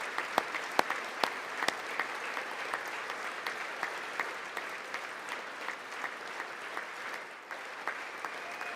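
Audience at a State of the Union address applauding steadily for about nine seconds, a dense wash of clapping with sharp individual claps popping out at a moderate distance, dipping briefly near the end before resuming.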